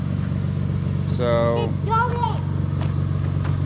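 A Lexus IS350 fitted with a new, inexpensive aftermarket exhaust that has a slight leak idles with a steady low rumble throughout, while someone speaks briefly over it.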